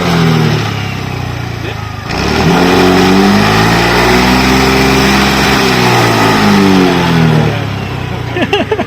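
A TVS motorcycle engine revs loudly and close by, its pitch climbing and falling through two long throttle sweeps, then settling near the end.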